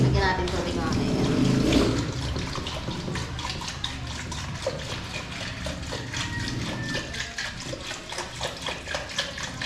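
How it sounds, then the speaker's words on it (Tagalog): Water poured or run into a cooking pot while preparing sinigang with chicken feet, a broadband rushing stream loudest in the first two seconds and then continuing more softly beneath a person talking. "Lagyan natin tubig mga kaibigan."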